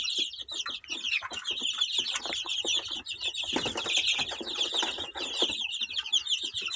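A brood of 15-day-old domestic chicks chirps constantly, a dense overlapping chorus of high peeps mixed with scattered pecking taps and rustling, heard close up without speech.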